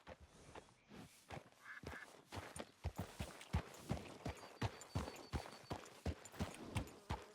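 Horse hooves in the video game Red Dead Redemption II, a steady clip-clop of hoofbeats at a walking pace, close and clear, keeping an even rhythm throughout with no speech on top.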